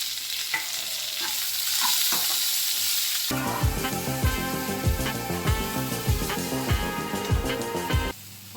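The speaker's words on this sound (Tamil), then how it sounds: "போட்ட மசாலாஸ்லாம் வந்து ஓரளவுக்கு வதங்கிடுச்சு" Onion, tomato and masala for a mutton curry sautéing in a pan, a steady sizzle broken by the rhythmic scrape and clatter of a spatula stirring. Close and fairly loud, with no talking.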